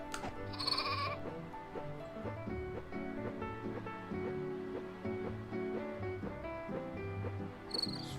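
Sheep in the video game My Time at Portia bleat several times, close and clear, over a continuous layer of insect-like chirping and melodic background music.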